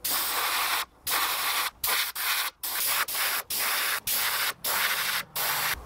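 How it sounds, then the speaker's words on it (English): Spray paint hisses through a sponge onto a fishing lure for texture, in about a dozen close, loud, steady bursts separated by brief pauses. "move it, spray, move it, spray, move it, spray."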